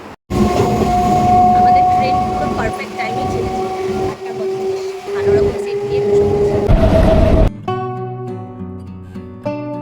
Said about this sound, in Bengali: প্ল্যাটফর্মে ওই যে আমাদের ট্রেন প্ল্যাটফর্মে ট্রেন দিয়ে দিয়েছে এখন উঠে পড়ি